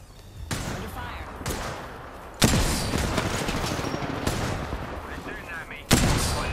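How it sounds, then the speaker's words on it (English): Heavy gunfire in a video game shooter match, with sharp loud bursts and continuous volleys of shots, some rapid like automatic fire, rising at a few points into louder cracks, with a voice speaking over it. "They're shooting at me."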